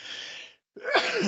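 A single sharp human sneeze breaks out after a short silent catch of breath, loud and close, with no talk around it.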